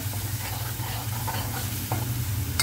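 Spice paste hits hot ghee and garlic in a pan, giving a steady close sizzle with light scraping and stirring sounds on top, fairly quiet and continuous.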